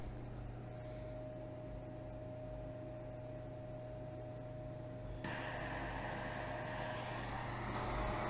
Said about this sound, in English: then we're going to go ahead and fire up our torch and start this melt